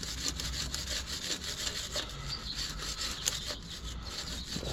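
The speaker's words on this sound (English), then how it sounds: "I'm gonna clean up this old gasket right here." Old gasket material is scraped off a mating surface during a 4WD actuator replacement on a Toyota Tacoma 4x4, giving a close, continuous rasping rub of repeated back-and-forth strokes.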